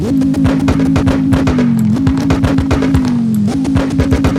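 A 1,395-horsepower drag car engine in CarX Drift Racing Online revs hard and close, with two rising pulls that each end in a sharp shift and a popping, rumbling drone.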